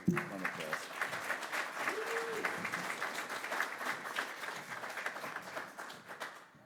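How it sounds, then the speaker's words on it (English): An audience at a cybersecurity workforce conference claps for panelists leaving the stage, a sustained round of applause that begins with a sharp burst, holds steady, then tapers, with a brief voice heard over it early on. "Let's give them a round of applause."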